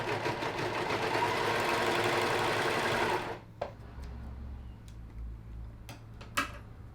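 A sewing machine runs steadily and loudly for about three seconds, a dense mechanical whir, then stops, leaving a quiet room with a few faint clicks and taps.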